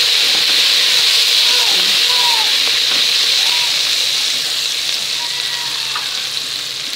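Onions sizzling as they fry in a pan, a steady bright hiss that continues throughout, with faint stirring clinks and a voice speaking over it.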